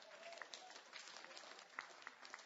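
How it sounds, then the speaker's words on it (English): An audience at a flat earth conference claps, a faint, steady patter of applause that sounds distant and thin and carries on without a break. "Why are y'all clapping?"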